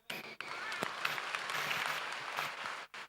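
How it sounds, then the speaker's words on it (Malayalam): An audience applauds the children of the Irinjalakuda diocese, a sustained wash of clapping from many hands that holds steady for about two and a half seconds before dropping off. "അപ്പൊ ഇരിങ്ങാലക്കുട രൂപതയിലെ എല്ലാ കുഞ്ഞു മക്കൾക്കും നമുക്കൊരു നല്ല കൈയടി."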